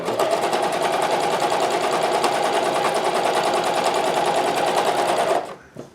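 A Janome CoverPro 1000CPX coverstitch machine runs loud and close at a fast, steady pace for over five seconds before winding down and stopping.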